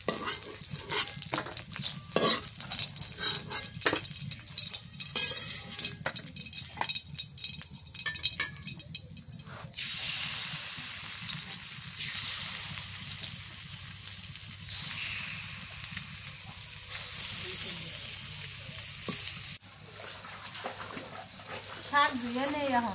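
Pomfret fish frying in a pan while spinach is washed in water nearby: continuous loud sizzling with stirring clatter and splashy rinsing surges that swell and drop, a voice at times faintly underneath.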